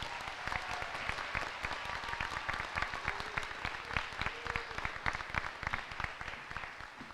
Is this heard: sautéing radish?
no